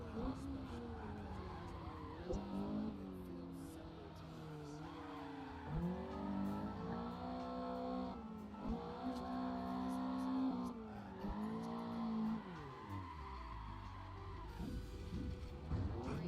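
Nissan GT-R race cars in the Assetto Corsa racing game, engines revving and shifting through the gears in rising and falling sweeps with occasional tire squeal, a person talking over the steady engine drone.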